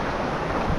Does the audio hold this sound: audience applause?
no